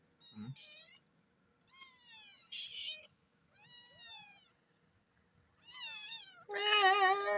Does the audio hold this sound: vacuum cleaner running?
no